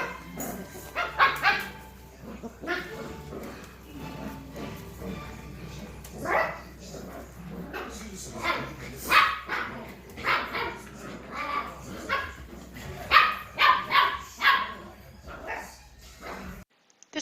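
Goldendoodle puppies and two adult goldendoodles barking, yipping and whimpering during indoor play, a busy stream of repeated close barks and squeals mixed with talking throughout.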